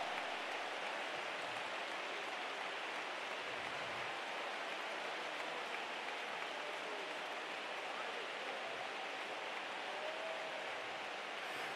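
A large crowd at a youth church convention claps steadily, producing dense, even applause that holds at full strength from start to finish with no pauses.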